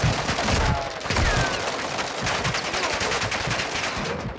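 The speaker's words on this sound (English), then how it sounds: "Why are there so many bullets flying right now? Oh, somebody set up a sentry" Automated sentry gun in the video game DMZ firing bullets in dense, continuous bursts of loud gunfire, with sharp repeated cracks running throughout and no voices.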